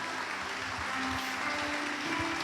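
A church congregation claps together in a soft, continuous patter, faint and somewhat distant, with low hum beneath.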